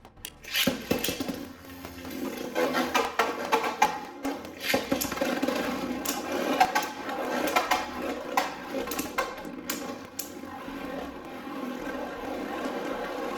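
Beyblade Burst tops are launched into a plastic stadium, giving a sharp rip followed by continuous whirring, scraping and clacking as they spin and collide up close.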